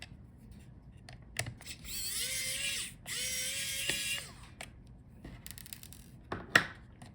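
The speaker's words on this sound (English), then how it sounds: "So unscrew that cover on the top." Small electric screwdriver unscrewing the storage cover on a Dell Precision 3490 laptop, two short whirring runs of about a second each, separated by quiet clicks and taps of handling.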